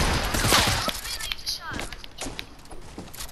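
Fortnite gunfire pops in a short burst of shots with thuds and impacts, mixed under players talking.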